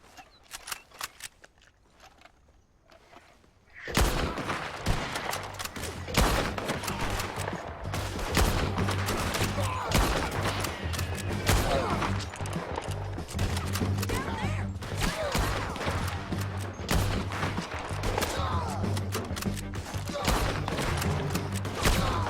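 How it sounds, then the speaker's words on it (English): Gunfire erupts in Red Dead Redemption 2 after a quiet start, a dense, continuous barrage of rapid shots and cracks with a low rumbling backdrop, while players talk over the action. "Let's just start shooting."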